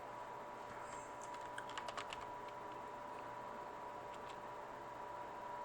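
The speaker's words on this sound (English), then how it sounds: "I can type their name in." Faint, close keyboard typing comes in a short cluster of quick keystrokes and then a couple of stray taps. A steady electrical hum sits underneath, and no one speaks.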